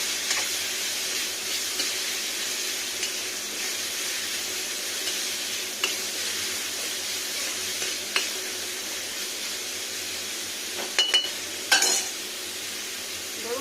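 Egg and tomato frying in mustard oil for egg bhurji, a steady soft sizzle throughout with occasional clinks and scrapes of stirring, fairly close and with no talk.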